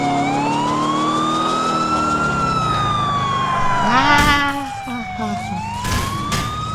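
A police car siren wails in the video game GTA IV, rising and falling in long sweeps over steady engine and traffic noise, loud and close, with a brief horn-like burst partway through.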